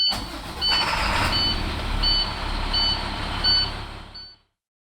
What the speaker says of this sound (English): Turn the bus on to rebuild the air pressure.